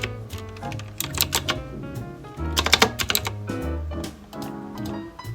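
Computer keyboard typing in quick bursts of clicks with short pauses, close and fairly loud, with soft background music underneath and no talking.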